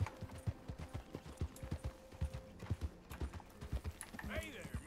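Horse hooves clip-clop steadily at a walking pace in Red Dead Redemption 2, a regular rhythmic clatter close by, with a voice talking over it and a brief whinny near the end.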